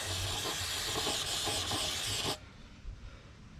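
An aerosol can of brake cleaner sprays onto a John Deere 212 garden tractor during mechanical fuel pump repairs, a close, loud, continuous hiss lasting a little over two seconds, then stopping sharply.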